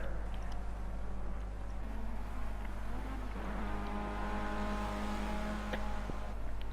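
Race cars lapping Cadwell Park circuit during a Formula Rookie race, engines droning steadily with harmonic tones rising as cars accelerate through the corners, heard from trackside at moderate distance.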